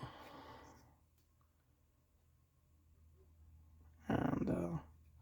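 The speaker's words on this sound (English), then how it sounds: "joys of having a pit bull if you can hear the barking" A single loud bark from a pit bull bursts out near the end after mostly quiet room noise, with a brief voice heard at the start.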